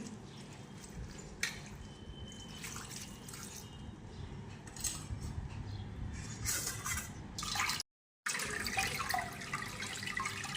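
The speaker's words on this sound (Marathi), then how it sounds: "सतत वरती मी चांगलं पाणी टाकून देत आहे" Water runs steadily over fenugreek leaves being washed, with splashing and dripping, a continuous wet wash close by, briefly cut off for a moment before resuming.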